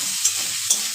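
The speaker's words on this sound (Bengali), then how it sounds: "ভালো করে কষিয়ে নিচ্ছি" Potatoes and peas being sautéed in a pan, a loud, steady sizzle up close, with two quick scraping strokes of a spatula.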